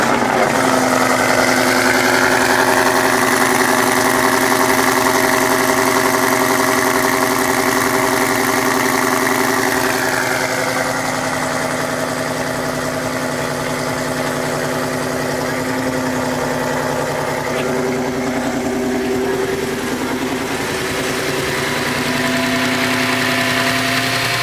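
A 900 hp Coyote-swapped coupe idles loud and close with a deep, steady rumble and slight wavering pitch that shifts a little midway, running continuously with no talk.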